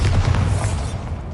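A heavy blasting spell detonates in Hogwarts Legacy, a loud, deep boom with a dense low rumble that fills the short moment, with no voices.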